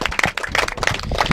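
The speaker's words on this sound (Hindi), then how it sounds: "जोरदार ताली से अभिनंदन कीजिए" Applause at the trophy presentation of a village cricket premier league final, a brief burst of crowd clapping with quick, uneven hand claps fairly close by.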